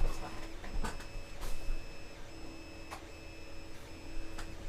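A Creality CR-10 Mini 3D printer runs quietly, with faint stepper-motor whines, soft ticks and small clicks from its moving head at close range and no talking.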